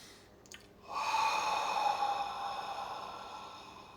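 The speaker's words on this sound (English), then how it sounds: "Please take a deep inhale." A deep breath during guided meditation, a soft short sniff followed by a long, close airy exhale that swells quickly and then slowly fades.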